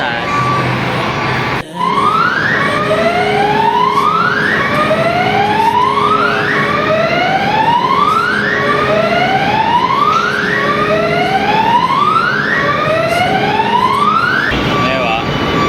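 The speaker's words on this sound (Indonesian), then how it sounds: "Waktu ini turun ya, alarmnya bunyi." A ship's alarm wails in repeated rising sweeps aboard a passenger vessel as motorbikes descend from the upper deck, loud and continuous for most of the stretch, with engine rumble and people talking underneath.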